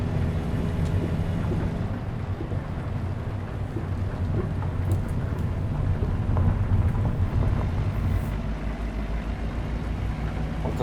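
Steady video-game rain roars without a break in a truck simulator, dense and close, with a low rumbling bed underneath throughout.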